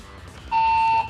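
A building evacuation alarm sounds as a single steady, piercing electronic tone held for about half a second, loud over a faint background.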